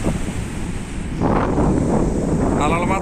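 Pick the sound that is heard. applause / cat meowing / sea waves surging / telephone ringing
sea waves surging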